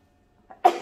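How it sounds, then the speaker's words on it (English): A single short cough from a woman with hay fever, close and sudden after a near-silent pause, preceded by a faint throat catch. "I had to cough then."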